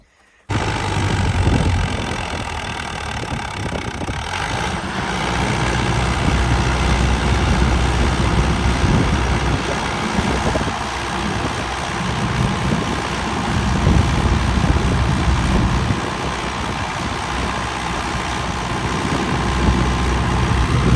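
A tractor engine idling in a field, a steady low mechanical rumble that runs close and continuous throughout with no break.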